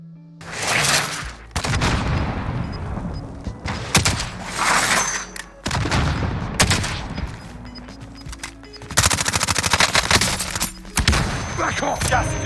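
Gunfire in the Warzone video game comes in loud, dense bursts of rapid shots and heavy impacts, broken by brief pauses, with no one talking over it.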